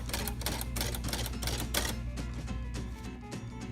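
Backspace and keys of a 1957 Remington Quiet-Rite manual typewriter clatter in a quick run of close, crisp mechanical strikes over a steady hum, with no one talking.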